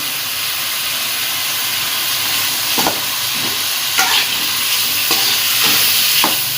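Chopped onions and tomatoes are stirred into hot oil for beef keema pulao: a loud, continuous hissing sizzle with a few sharp spatula scrapes, heard up close with no talking.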